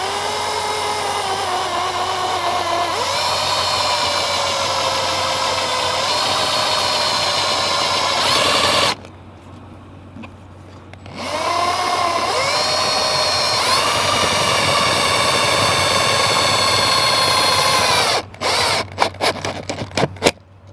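A power drill drives a screw into a round RV slide-out awning tube, whirring loudly and steadily with changes in pitch, stopping briefly midway, then running again before ending in a few short bursts.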